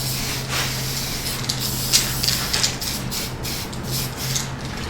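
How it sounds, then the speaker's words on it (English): A spray paint can hisses in short bursts close by, with a steady low hum underneath and no talking. "So you just spray a light coat on it"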